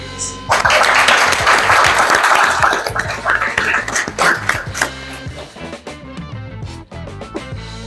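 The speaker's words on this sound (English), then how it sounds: "A quick round of applause for everyone here for your dedication and commitment." A quick round of applause from an evening audience at a youth-focused gathering, a dense wash of clapping swelling near the start and thinning toward the end, with voices murmuring underneath.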